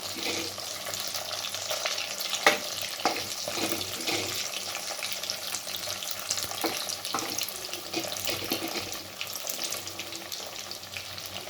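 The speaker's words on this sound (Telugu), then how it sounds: "ఈ విధంగా వేయించుకున్న ముక్కల్ని ఈ ఆయిల్లో వేసి బాగా గోల్డ్ కలర్ వచ్చే వరకు వేయించుకుందాము" Chicken pieces frying in hot oil for a pickle, with a steady bubbling sizzle that stays fairly even throughout. A few faint clicks and stirs come through at moderate loudness, and no voices are heard.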